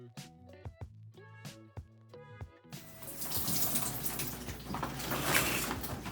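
Shower water runs steadily while hair is being rinsed after a shampoo, a soft hiss that swells in after a few quiet knocks and clicks, close and fairly faint.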